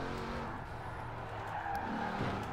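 Ford Crown Victoria police car driving in Forza Horizon 4, its engine a steady, moderately loud drone with some tire noise, running continuously throughout with no talking.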